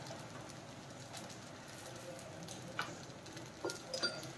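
Oil sizzling in a frying pan, a soft, steady crackle with a few sharper pops near the end.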